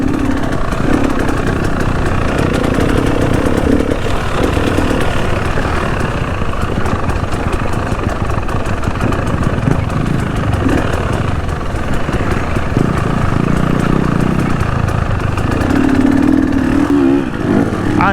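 A loud motorcycle engine on a trail ride at an Indonesian off-road trabas event, idling roughly and revving in repeated bursts close by throughout, with no talk over it.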